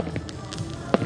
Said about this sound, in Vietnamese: Đây là pháo tầm cao.